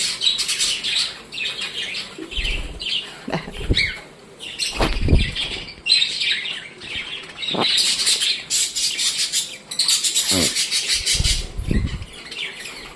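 Budgerigars about one year old chirp and squawk in busy overlapping bursts, with several quick flurries of wing flaps nearby; no talking.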